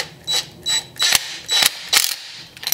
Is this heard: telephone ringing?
no